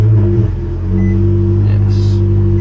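A car starts with a newly programmed key, its engine catching into a steady, close, low rumbling idle.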